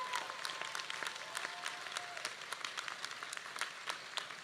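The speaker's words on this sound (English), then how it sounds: "please join me in a round of applause for everyone who helped to put on today's commencement" A San Diego City College commencement audience claps for the planning committee and volunteers, a continuous fairly distant round of applause from a large crowd with individual sharp claps standing out.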